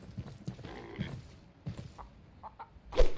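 Chicken clucking in the farming video game The Last Farmer, a few short clucks and clatters scattered alone with a louder burst near the end.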